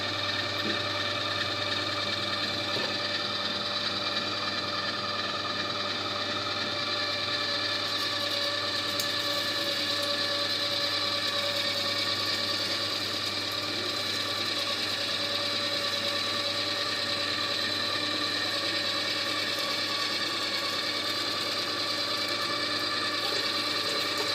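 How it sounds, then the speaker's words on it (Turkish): Small electric meat grinder for mince and sausage running steadily, a constant close mechanical whine and hum with a faint rattle, unbroken for the whole stretch with no talk. "birinci kalite kıyma makineleri bizde arkadaşlar"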